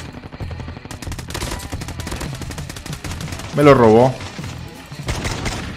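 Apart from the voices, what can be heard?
gunfire in the video game Call of Duty: Mobile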